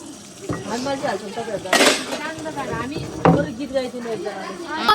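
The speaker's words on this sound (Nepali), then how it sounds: "तपाईँहरूलाई म भाँडा माझेको देखाइदिन्छु" Clattering dishes and scraping pots from someone washing up, with a sharp clink partway through, over a constant voice talking in the background.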